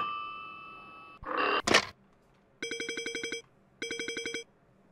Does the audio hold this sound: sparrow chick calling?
no